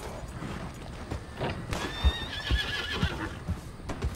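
A horse in the video game Red Dead Redemption 2 gives a clear, fairly close whinny, with clip-clopping hooves beating steadily underneath and game noise behind.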